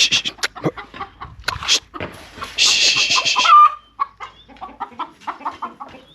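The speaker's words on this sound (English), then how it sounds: "there's this funny chicken" A loose farmyard chicken clucks repeatedly close by, a run of bright choppy clucks and a longer squawk, then softer scattered clucks trailing off, with no talk.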